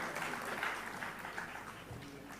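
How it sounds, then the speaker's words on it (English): Attendees at a Bunts Sangha educational institutions silver jubilee launch applaud a newly appointed president, a fairly quiet, even patter of clapping that continues throughout. "Give him a round of applause."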